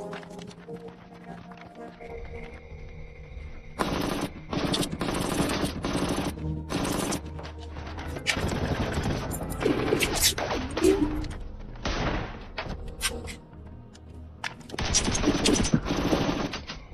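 Bursts of gunfire in a sniper war film scene as a follow-up rebel group arrives and a captain opens fire first, with loud, dense, rapid volleys in several stretches separated by brief lulls.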